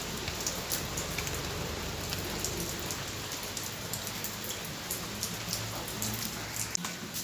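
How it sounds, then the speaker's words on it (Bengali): Early spring rain falls without pause in a soft, even patter on surfaces, with faint drips and a quiet, unbroken wash and no voices. "এই যে বৃষ্টি পড়েই যাচ্ছে পড়েই"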